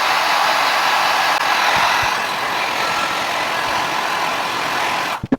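A heat gun blows steadily on creased leather shoes with a rubber sole, a loud, even, close-up whooshing hum that holds for several seconds and then cuts off with a few handling knocks.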